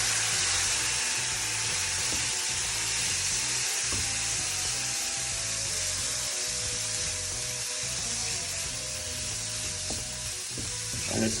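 Cauliflower curry vegetables with a splash of soy sauce sizzling in a pan as they are stirred, a continuous close hiss under repeated rhythmic scraping and knocking of the utensil.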